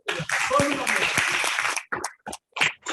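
An audience at a training session applauds in a dense burst of clapping mixed with voices, then it breaks off and someone speaks in short phrases.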